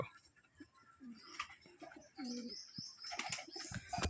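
Pigeons being fed in the morning coo faintly, soft low rolling calls mixed with a few light chirps at a distance.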